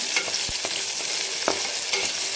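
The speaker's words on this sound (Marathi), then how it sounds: "आणि लगेच आपण हा कांदा कट केलेला तो टाकतो आणि सोनेरी कलरवर आपल्याला याला मस्त असं फ्राय करून घ्यायचं" Chopped onion frying in a pan, a loud steady sizzle broken by a few distinct knocks and scrapes of the spoon, close and unaccompanied by speech.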